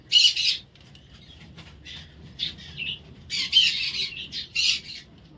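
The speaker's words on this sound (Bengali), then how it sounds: "মামা হচ্ছে পাখিদের খেতে দেবে পাখি পায়রা" Pigeons on a rooftop being fed chickpeas give loud, harsh squawking bursts in uneven clusters, some overlapping, with quieter gaps of low background rumble between them.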